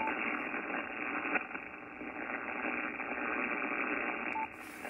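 Steady hiss of radio static from a Yaesu FT-710 transceiver with the noise blanker switched off, a continuous, even band of noise with faint crackles, fairly quiet and alone.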